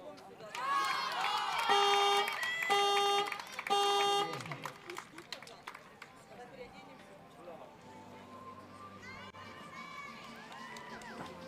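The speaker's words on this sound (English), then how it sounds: "we can hear a lot from the crowd" Spectators at the Turkey v USA compound junior women's team bronze archery match at the 2021 World Archery event in Wroclaw chant and cheer loudly in pulsing waves, then fade to a murmur beneath a commentator's voice.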